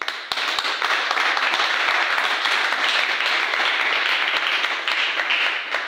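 A church congregation applauds the Lord with steady, loud clapping that carries on throughout, many hands blending into a continuous roar with a few distinct claps standing out.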